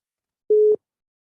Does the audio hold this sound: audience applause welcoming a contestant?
no